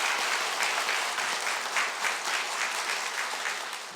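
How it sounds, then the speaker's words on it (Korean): A lecture audience at a citizens' academy session applauds the professor, with steady, dense clapping holding at an even level throughout and no one speaking. "이국은 교수님께 다시 한번 큰 박수 부탁드리겠습니다"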